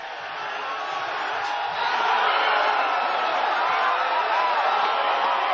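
A large crowd of students cheers and shouts during the Penn State riot, a dense, continuous roar heard from a distance that swells slightly louder partway through.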